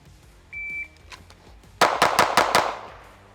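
A short electronic beep, then five rapid, loud gunshots from a Springfield Echelon Comp pistol fired from the draw in a shooting drill on paper targets, sharp evenly spaced cracks with brief ringing decay.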